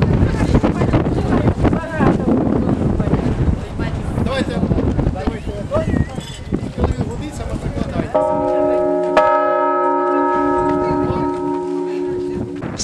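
A newly consecrated church bell in Karmazinovka rings out at a consecration ceremony, its sustained harmonic tones sounding clearly in the later seconds over earlier crowd noise and wind buffeting the microphone.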